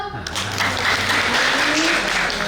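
An audience at a children's comedy performance in a village hall claps hands, a brief burst of scattered clapping that builds after a short pause and carries on at moderate loudness with a faint tone in the background.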